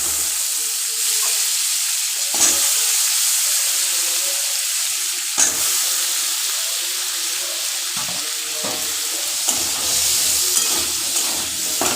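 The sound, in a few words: potatoes frying in oil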